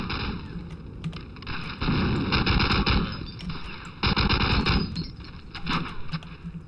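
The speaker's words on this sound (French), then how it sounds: "Qui c'est qui me tire dessus, là?" Sustained automatic gunfire in the Medal of Honor Allied Assault Breakthrough battle of Gela, a dense rattle of rapid shots with loud bursts swelling between about 2 and 3 seconds and again near 4 to 5 seconds.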